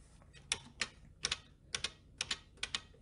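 A vintage typewriter, similar to a Remington Model 1 portable, is typed with a geared sector type action, giving crisp paired clacks in an irregular rhythm, close and moderately loud over a low hum.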